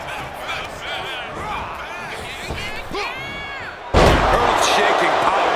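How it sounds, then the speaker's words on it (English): A Mark Henry power slam in the WWE 2K25 wrestling game lands as a sharp, loud impact around the midpoint, followed by a sudden swell of roaring arena crowd noise, with commentators talking over the action. "Earth-shaking power slam."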